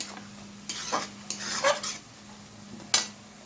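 Ginger-garlic paste is added to a pan for a mutton and potato curry and stirred in, with several scraping spatula strokes and clinks over a faint, steady sizzle, ending in one sharper knock against the pan.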